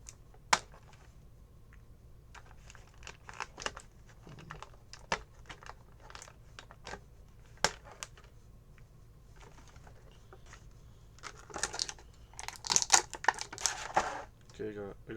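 Scissors snipping and crinkling through plastic packaging around Mighty Morphin Power Rangers toys, close and quiet, with scattered sharp clicks and a denser burst of crinkling near the end.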